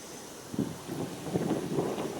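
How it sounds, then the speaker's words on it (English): Gusty wind over a pond with small whitecaps buffets the microphone outdoors in rumbling, uneven bursts, moderately loud and close, with no voices. "It's so windy out here."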